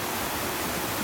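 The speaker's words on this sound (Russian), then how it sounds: "Вот водопад." A waterfall in northern Bali gives off a steady, even rushing roar, broad and unbroken for the whole second, with no other sounds standing out.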